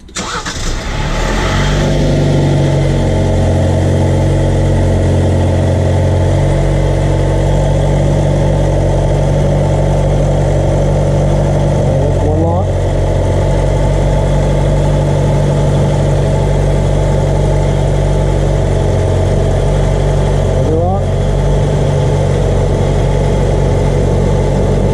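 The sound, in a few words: vehicle engine started and idling while steering turned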